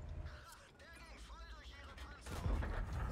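A Panther tank's gun fires high-explosive shells in World of Tanks, a loud broadband boom that erupts late and sustains after a stretch of someone talking.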